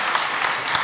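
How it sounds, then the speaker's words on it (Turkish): A short burst of loud, steady applause from the audience of a Turkish comedy sketch show, many hands clapping together at close range. "Alkış geldi montajda atmayacağız rahat ol"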